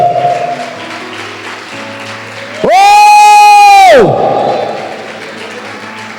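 A church congregation applauds and cheers in a noisy hall, with crowd noise throughout and one loud, sustained voice rising over it for about a second midway before the clapping and shouting carry on.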